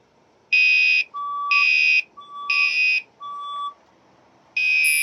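A building fire alarm repeats its pattern: loud electronic horn blasts alternating with steady higher tones, about four cycles in a row, ringing clearly in an otherwise quiet indoor space with no talking.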